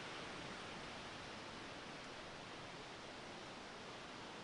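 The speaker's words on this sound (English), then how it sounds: "you can hear me over the waterfalls at least" Waterfalls in Snowdonia, with a camp set between two falls, give a continuous, loud, even rush of broadband water noise that never lets up.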